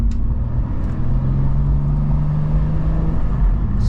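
A BMW M2, a rear-wheel-drive pocket rocket, pulls along at midday with a steady low engine drone and a rising tonal note as it accelerates, close and continuous throughout.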